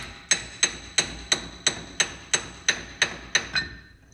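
Hammer tapping the loose top cap off a Toyota 4x4 solid front axle knuckle, eleven sharp metallic strikes at an even, unhurried pace, close and clear with no talking.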